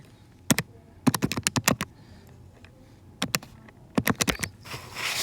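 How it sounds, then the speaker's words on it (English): Calculator keys are tapped in quick clusters of crisp, close clicks, one burst of several presses followed after a pause by another, with faint room noise between. "I can type all of this into the calculator."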